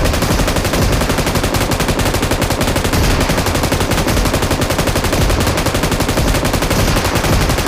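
Rapid, continuous machine-gun-like fire from missile towers in the PUBG Mobile tower defense mode, loud and unbroken throughout with no pauses.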